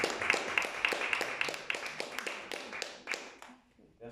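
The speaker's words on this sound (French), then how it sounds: "Alors on vous applaudit." A small audience at a municipal library applauds after a theatre company's reading performance. The clapping is rhythmic and fairly close, with some distinct sharp claps, and gradually tapers off into quiet.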